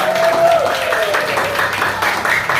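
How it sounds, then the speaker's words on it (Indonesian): A classroom of pupils claps for a classmate, a short burst of brisk, fairly loud applause with a tonal voice or whistle-like sound briefly audible near the start. "Oke, kita kasih tepuk tangan untuk Ades."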